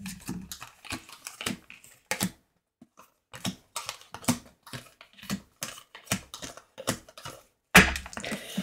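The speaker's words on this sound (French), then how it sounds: "Je pose les cartes." Tarot cards laid down one after another on a table, a run of crisp, close taps and soft slaps in an uneven rhythm with short pauses, and a sharper snap near the end.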